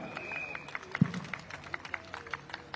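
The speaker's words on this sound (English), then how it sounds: "Let's give them a big round of applause, everybody" A crowd at a Singapore Democratic Party rally in Bukit Panjang gives a round of applause, a thin, scattered patter of claps heard at a modest distance with background chatter.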